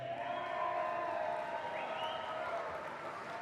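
A commencement crowd at a spring university graduation applauding steadily with scattered cheers and whoops, a dense, sustained wash of clapping with voices mixed in.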